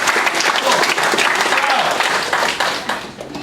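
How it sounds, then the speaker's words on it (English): Applause from an assembly audience fills the whole stretch, a dense, steady wash of many hands clapping at close range that eases slightly toward the end, with some voices mixed in. "Give yourselves a round of applause."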